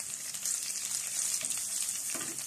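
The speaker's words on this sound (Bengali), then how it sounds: "এখন সবগুলো একসাথে মিক্স করব" Whole spices and green chilies fry in a pan for biryani, giving a continuous bright sizzle with light stirring scrapes, close and moderately quiet, with no talking.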